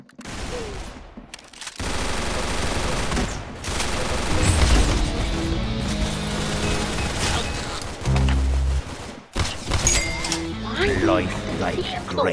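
Rapid gunfire from the Roblox game Arsenal crackles in dense bursts with booms and metallic clinks over game music, while excited voices talk over the action.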